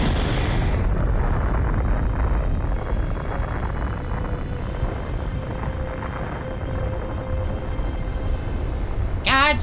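A god dies in a nuclear-scale explosion in God of War, a loud, sustained roaring blast rumble filling the low end for nearly ten seconds, with a thin whistling tone and rising swoosh near the end.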